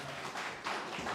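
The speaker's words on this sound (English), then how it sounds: "Give him a big round of applause." An audience at a community mental health and wellbeing launch event gives a quiet, continuous round of applause, a dense patter of many hands clapping together throughout.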